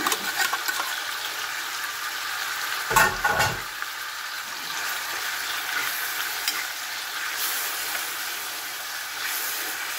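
Chicken sautéing in butter in a pan, a loud, dense, continuous sizzle with a brief stirring clatter near the start, heard close up with no talking.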